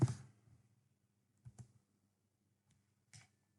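A few keystrokes tapped on a computer keyboard while the word perfmon is entered on a Windows PC: one burst at the start, then two short clusters of clicks spaced apart in a quiet room.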